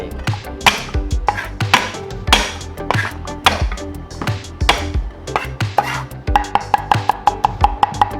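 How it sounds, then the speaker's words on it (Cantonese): A knife chops garlic finely on a board for a Kam Heong eggplant and dried shrimp dish, sharp close knocks in quick irregular bursts of about twenty strikes, loud and clear with no talking. "稍微咁樣切碎佢就得啦"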